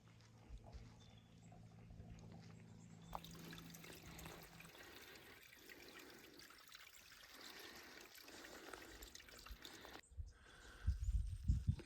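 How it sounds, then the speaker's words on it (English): Water trickling and flowing along a small stream on a hillside hike, a steady broadband wash that continues throughout, with louder splashing bursts near the end. "I can see water trickling ahead, so that means that, well, obviously it's flowing"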